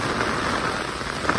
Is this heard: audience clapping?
no